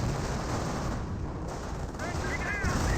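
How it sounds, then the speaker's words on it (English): A grenade blast and rifle fire in the strategy game Company of Heroes sound as a dense, rumbling wash of battle noise, with a voice talking briefly over it near the end. "Grenade's been thrown."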